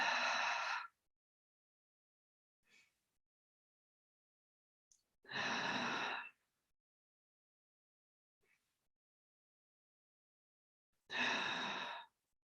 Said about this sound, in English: 3 deep cleansing breaths.